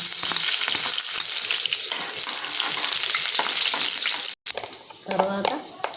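Onion frying in hot oil for a tamarind-leaf curry, a dense, continuous close sizzle with occasional stirring scrapes, a brief cut in the middle, and a faint voice near the end.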